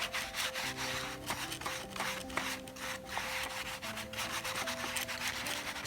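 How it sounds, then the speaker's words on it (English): A brush scrubs gouache paint back and forth on textured handmade Khadi paper, making a quiet, close, rhythmic rasping rub in repeated strokes. No one speaks. "I'm having to scrub a little"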